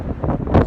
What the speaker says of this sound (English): It's windy as fuck.